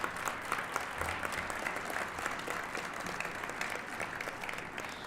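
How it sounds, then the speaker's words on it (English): A crowd applauds steadily, dense clapping that holds at an even level throughout, heard from within the audience. "I would love for both Gary and Diane to stand up and take some applause"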